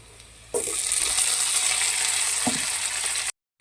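Chopped tomato hits hot oil with browned onions and bursts into a loud, sustained hiss that runs steadily for a few seconds before cutting off abruptly.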